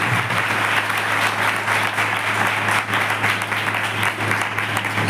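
Crowd at a youth meeting in a hall claps continuously for several seconds, a dense, even patter of many hands over a faint electrical hum.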